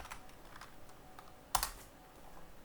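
Keystrokes on a computer keyboard tap out quietly and sparsely, with one sharper, louder key press partway through, in an otherwise calm room.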